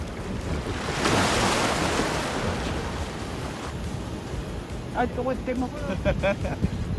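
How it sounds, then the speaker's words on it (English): Ocean waves crash and wash onto a Costa Rica shore at Puerto Limón, a loud continuous roar of surf with wind buffeting the microphone, and a voice briefly rises over it near the end. "some of the waves that come in are aggressive"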